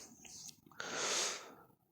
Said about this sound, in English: She's tired and panting very heavily